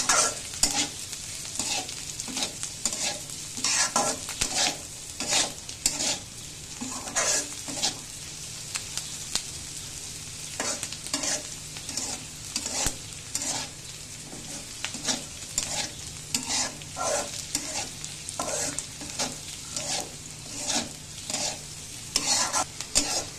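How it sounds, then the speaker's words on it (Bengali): Rice stir-fried in a pan for a breakfast rice roast, with steady rhythmic spatula scraping over a continuous close sizzle that carries on alone throughout. "এটাকে সুন্দর করে একটু ভেজে নিতে হবে।"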